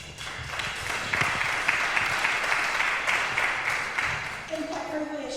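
Audience applause after a speech, a dense, steady wash of clapping from a crowd that continues for several seconds, with a voice starting to speak near the end.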